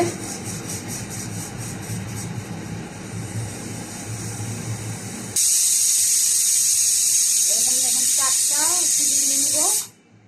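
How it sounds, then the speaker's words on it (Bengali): Pressure cooker on the stove cooking beef tehari, a loud, steady hissing whistle of steam that starts suddenly and runs for several seconds, after a stretch of cooking noise, with a voice chattering faintly beneath. "এই যে প্রেসার কুকারে সিটি দিবে"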